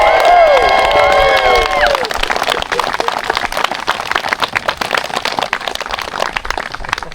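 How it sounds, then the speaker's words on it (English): Wedding guests break into loud cheering and whooping just after the couple is pronounced married, with rhythmic applause and clapping continuing steadily as the shouts fade. "Oh, you're blessed with an enthusiastic crowd."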